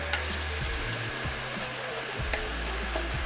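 Curry leaves and spices frying in a pan for a British-style rogan josh, with a steady sizzle under a few scraping stirs of the spoon, close and alone.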